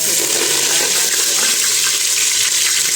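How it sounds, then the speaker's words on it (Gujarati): Mustard seeds and cumin dropped into hot oil for a dry potato curry, giving a loud, dense, steady sizzle with crackling throughout, close up and with no talking. "તો અહીંયા તેલ આપણું ગરમ થઈ ગયું છે। હવે આપણે એમાં રાઈ નાખશું, જીરું નાખશું"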